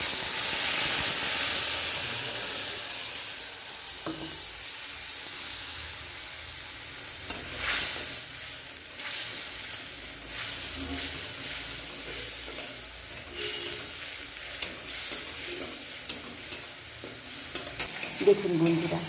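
Ginger, tomato and chili paste hits hot oil with whole cumin, bursting into a loud hiss that settles into a steady close sizzle, punctuated by stirring scrapes and light clicks, with no talking.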